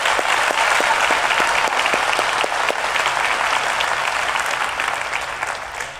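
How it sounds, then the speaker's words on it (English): A crowd applauds at the DEFCON 20 hacker conference, honoring kids on stage, with a few sharp individual claps standing out near the start over a steady sustained clapping that slowly eases off. "Let's give SciFi a big round of applause and DEFCON kids"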